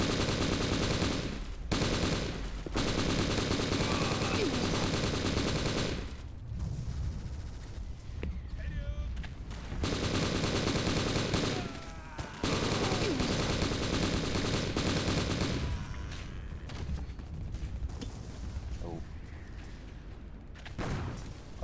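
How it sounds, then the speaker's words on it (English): Sustained loud automatic machine gun fire in the video game M.I.A.: Mission in Asia, long continuous bursts broken by a few short pauses, with booming impacts and mechanical clatter throughout. "I cannot reload my machine gun right now"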